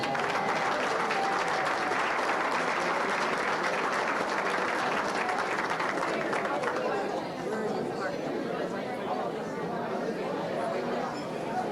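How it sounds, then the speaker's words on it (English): Steady applause fills a hall at an athletic hall of fame ceremony, dense and sustained for several seconds with crowd chatter mixed in, easing slightly toward the end. "so give her a round of applause"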